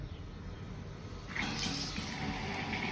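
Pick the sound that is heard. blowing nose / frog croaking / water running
water running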